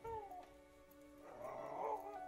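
A dog in a live-action Minecraft film gives a short, high whimper and whining howl, fairly close and quiet, without speech.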